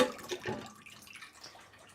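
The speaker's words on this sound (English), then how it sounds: "Just going to run some water in that." Water runs from a kitchen tap into a dish used for a fish pie mixture, a soft splashing trickle that fades quickly, with no talking.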